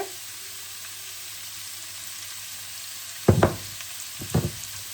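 Vegetables for vegetable noodles sauté quietly in a pan, a faint, steady frying hiss interrupted by two brief, sharper scrapes of stirring.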